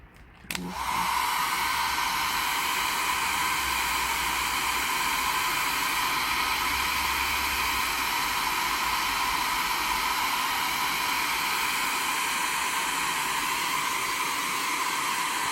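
A heat dryer, used for drying glue while making a mini flower pot, switches on with a click and blows continuously, a steady loud whooshing hiss with a high whine, running alone without pause.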